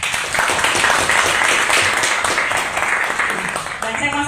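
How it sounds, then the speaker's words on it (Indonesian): Students in a radio studio audience applaud, a dense, steady wash of clapping that runs the whole time at close range with a faint murmur of voices mixed in. "saya mau tepuk tangannya dong"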